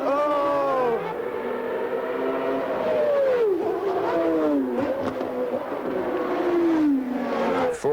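Ayrton Senna's Formula One car races in the Australian Grand Prix, high engine notes rising and falling through gear changes as cars pass, loud and continuous.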